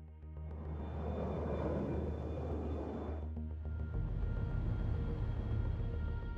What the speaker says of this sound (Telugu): Flight landed in Kolkata.